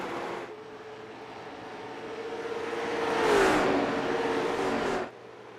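Late model race cars at Richmond Raceway roar past, engine drone rising to a loud peak as the pack sweeps by, then cutting off sharply as they pull away.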